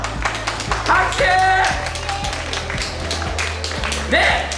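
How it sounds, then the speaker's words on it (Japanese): Audience at an amusement park show in Seibuen Yuenchi clapping along, sharp rhythmic claps from a small crowd with a voice speaking over them and a low steady hum underneath. "拍手"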